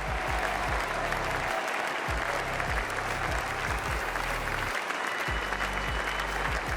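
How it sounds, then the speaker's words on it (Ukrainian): Sustained, dense applause from a large assembly greets the Austrian president's inauguration speech, a steady, even roar of clapping with a low hum running beneath it throughout. "Його інавгураційній промові аплодували стоячи всі, окрім депутатів від проросійської партії."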